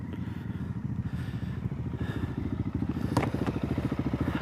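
A 2017 Honda Africa Twin motorcycle rides off-road, its engine throbbing in a steady, loud, close pulse with rattles and scrapes from the terrain and no voices.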